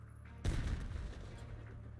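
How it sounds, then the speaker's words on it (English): A frag grenade explodes in Black Ops 6, a single sharp blast with a rumbling tail that fades over a second or so, moderately loud against quiet game ambience. "Just a random ass frag grenade thrown across the map."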